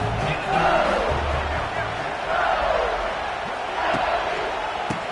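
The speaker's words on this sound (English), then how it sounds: "they are on their feet, yelling, screaming" Stadium crowd in the NCAA 26 football video game roars and yells steadily, with swelling waves of cheering as LSU plays in the red zone, loud and continuous with no speech over it.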